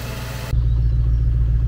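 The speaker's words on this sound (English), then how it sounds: "after that I'll just test the engine to make sure she's going to be alright." A Jaguar S-Type R engine after major servicing: a brief burst of broadband noise gives way to a steady, close, low idle rumble with no voices.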